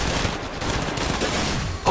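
Rapid, continuous gunfire during an Apex Legends Mobile squad fight, forming a loud, dense barrage that ends in a sharp, brighter burst.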